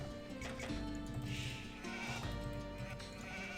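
Sheep bleat repeatedly in Age of Empires II, several wavering calls over ongoing game ambience and clatter, fairly close and clear, without speech.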